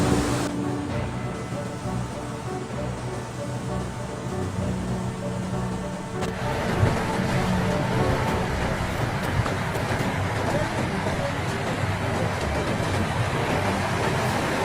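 Steady roar of rushing floodwater from overflowing rivers in a Romanian village, a broad continuous surge that grows heavier and fuller partway through and keeps churning without pause.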